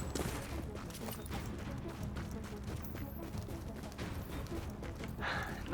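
Gunfire in a video game firefight: a constant loud barrage of rapid, overlapping shots and impacts filling the whole moment, with no pauses and no speech on top.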